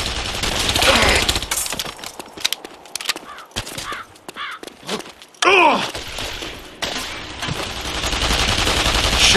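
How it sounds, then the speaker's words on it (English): Bursts of gunfire crack out across the clip, loud and irregular, mixed with shouting voices and other battle noise. "Shite! Gunfire!"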